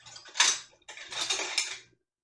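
A metal spoon scrapes and clinks against a roasting pan while scooping out cooked tomatillos, in two short, close bursts of scraping separated by a brief pause.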